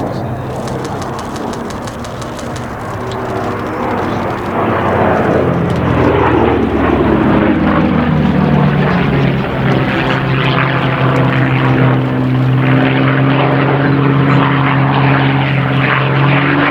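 A twin-engine, twin tail boom long-range escort fighter roars past in a flying display, its propeller drone loud and steady, swelling and bending in pitch as it sweeps overhead and holds close.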